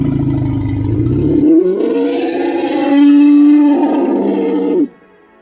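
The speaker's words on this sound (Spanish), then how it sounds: "un auténtico sonido de elefante puede verse tan amenazante como un" A loud elephant roar lasting about five seconds, a deep rumbling bellow that rises into a harsher, higher blast before cutting off abruptly, with no talking.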